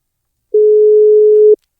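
A single steady telephone ringing tone sounds for about one second during a call, loud and clear, then cuts off into silence with no voices.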